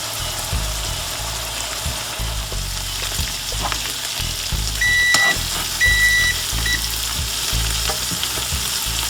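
Shrimp in green seasoning fry in a single layer in a hot pan, a close, steady sizzle with occasional stirring scrapes, while a couple of short electronic beeps sound midway; no one speaks.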